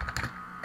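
A few quick keystrokes on a computer keyboard, close and fairly quiet, a short burst of clicks with a small gap before the last taps.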